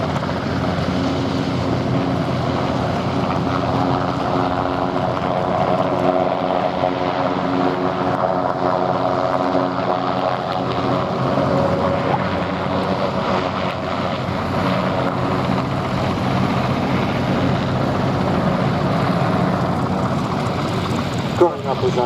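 Westland Sea King HC4 and Westland Wessex HU5 helicopters at a Royal Navy air display produce a steady rotor and engine drone, moderately loud, under continuous talk.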